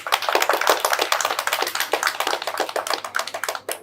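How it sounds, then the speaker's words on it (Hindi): An audience claps together in a continuous burst of many hands, dense and fairly close, fading slightly at the end. "एक बार ताली हो जाए।"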